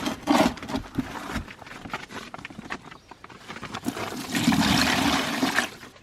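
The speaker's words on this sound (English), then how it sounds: "now I have the water drained out of this pipe" Dirty water drains out of a cut pipe during a sediment filter install, splashing and gurgling in uneven surges that swell loud near the start and again toward the end.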